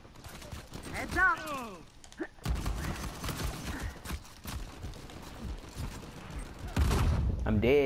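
Gunfire in the online multiplayer game Uncharted 4, with scattered shots and bursts crackling through a busy firefight, heard under frequent loud talking from players throughout.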